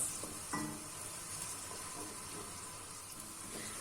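Chopped onions sizzle steadily in a pan for spinach meatballs, a close, continuous hiss with a few soft clinks of stirring.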